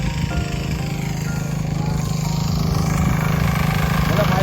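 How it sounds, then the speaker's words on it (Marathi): A tractor engine runs steadily at close range, rumbling with a low droning tone throughout, voices faintly present beneath it. "काकी ट्रॅक्टर चांगलं चालवत आहे"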